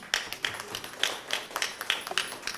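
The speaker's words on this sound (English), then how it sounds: "Can we have a round of applause, everybody?" Sparse audience clapping at a corporate award ceremony where a certificate of appreciation is presented, scattered individual claps in an uneven rhythm, fairly faint and thin rather than a full crowd.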